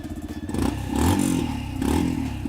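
A Yamaha FZ-X 150cc motorcycle engine running after starting, a steady low, throbbing exhaust note that swells slightly, close and fairly loud.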